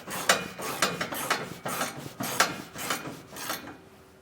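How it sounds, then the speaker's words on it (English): A ratchet tightens the bolts of a B&W Patriot fifth wheel trailer hitch head assembly, clicking in about nine quick, evenly spaced rapid strokes, close and clear, with no voices. "So we're going to tighten them down a little bit first."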